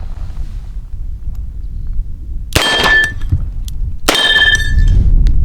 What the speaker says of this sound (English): Let's try a couple rounds double action.